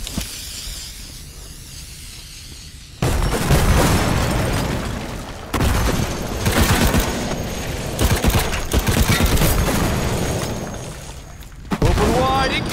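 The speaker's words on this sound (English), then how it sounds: "Incoming grenade!" Grenade blasts and heavy gunfire erupt in the World War Heroes shooter game, dense bursts of booming explosions and rattling shots that cut in abruptly and stay loud and close, with a voice line calling out among the noise.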